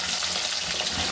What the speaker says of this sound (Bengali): দেখুন এবার আলু, বেগুন ও তেলে দিয়ে দেবো